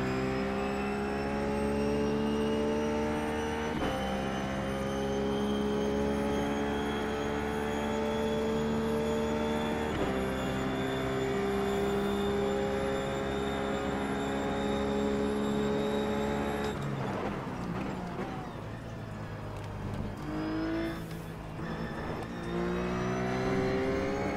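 A Ruf race car in the iRacing sim at Road Atlanta holds a steady, loud engine drone with a clean harmonic whine. It shifts pitch at gear changes and eases off near the end as the car brakes into a corner.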